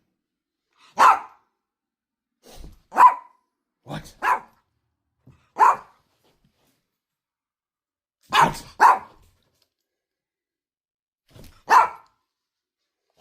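A big dog barks in short separate bursts, some doubled, spaced across the stretch with quiet between, fairly close and clear; a person's brief questioning voice comes in faintly between the barks.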